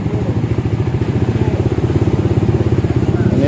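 A Suzuki GSX-S motorcycle engine, fitted with a modified stock exhaust, is held at 2000 RPM, giving a loud, close, steady pulsing burble with an even firing rhythm throughout.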